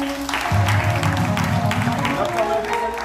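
A church congregation applauds and cheers for Jesus Christ in a loud, continuous wash of clapping that carries on for about three seconds, with voices and music blending underneath.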